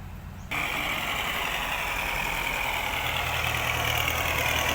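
A Kubota M8540 tractor engine starts up abruptly after a quieter moment, then runs at a steady loud drone with a constant mechanical hum and rattle, close by.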